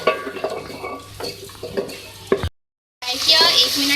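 Beef is mixed and fried in a pot with a spoon, scraping and clattering against the metal over sizzling oil, then a brief silent gap before louder, brighter frying hiss resumes.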